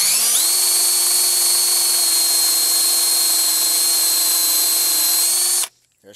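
A power drill bores peg holes into a wooden board for a homemade bow horse, a loud, steady high whine that holds for about five and a half seconds after a quick spin-up, then cuts off abruptly.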